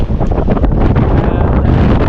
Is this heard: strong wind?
yes